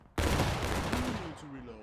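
A kneeling line of soldiers fires a musket volley in the War of Rights video game, a loud sudden crackling blast that rolls out into a long echoing rumble, with voices calling out faintly as it fades.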